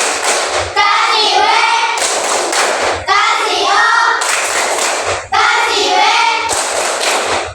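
Primary school class in a maths lesson doing a rhythmic group clap chant, loud bursts of unison clapping alternating with children's chanted voices in a repeating pattern, close and energetic.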